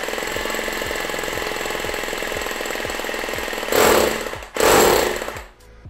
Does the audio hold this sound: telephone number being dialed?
no